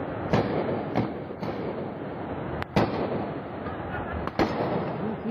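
Several sharp, distant gunshot cracks during the Charlie Hebdo attack in Paris, spaced irregularly with two close together, standing out over a low, steady background rumble.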